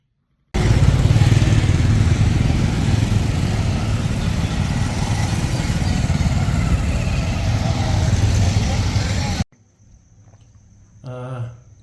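Several motorcycle engines roar continuously and loudly for most of the clip at a safety bike rally in Devgadh Baria, Gujarat, then cut off abruptly, leaving near silence and a brief faint voice.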